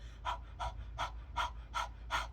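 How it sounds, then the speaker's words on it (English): Breath of fire in kundalini yoga: six quick, rhythmic nasal exhalations in an even panting pulse, close and fairly soft, with no talk over them. "It's a quick breath. It's like a panting from the nose, though."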